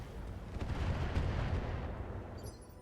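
A heavy, rumbling weapon blast from a mech in the RogueTech BattleTech game, a single sustained boom that swells and slowly fades, loud and alone without talking.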